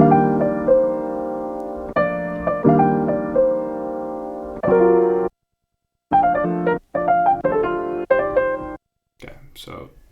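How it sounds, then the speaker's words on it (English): Chopped piano loop sampled from vinyl, triggered from pads on an Akai MPC Live 2: short piano phrases start and stop abruptly with gaps between, followed by a brief snippet of speech at the end. "pad 1, 2, 3, 4 each have a part of that original piano loop"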